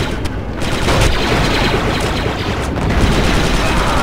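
An explosive charge detonates in the Star Wars Republic Commando video game. A loud, continuous roar of blasts and gunfire fills the whole stretch, dense and close, with game voices buried in the mix.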